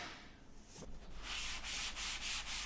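Sandpaper rubs across the foam of a rudder plug in rhythmic back-and-forth strokes, close and fairly loud, the scratchy hiss pulsing with each pass and growing steadier toward the end.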